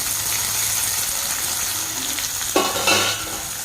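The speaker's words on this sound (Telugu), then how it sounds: "టమాటాలు వేసుకొని బాగా కలుపుకుందామండి." Tomatoes stirred into frying onions in a pan for a chamagada pulusu curry, a steady sizzle with scraping spoon strokes, a couple of louder stirs near the end, no talking.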